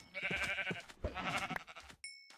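Sheep in Minecraft give several close, clear bleats one after another, followed by a short chiming game tone at the end.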